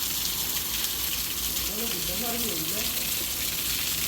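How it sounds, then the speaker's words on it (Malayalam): Rainwater rushes and flows in a steady, dense gush that stays loud and unbroken from start to finish, with a faint voice briefly audible beneath it. "മഴ വെള്ളം പോകുന്നുണ്ട് കേട്ടാ"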